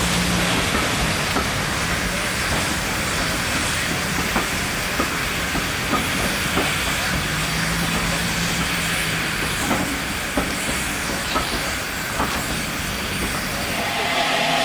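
Bulleid streamlined West Country Class Pacific 21C123 Blackmore Vale steam locomotive pulls away from a station platform on the Bluebell Railway, a steady hiss and rumble with faint repeated clanks and wheel clicks.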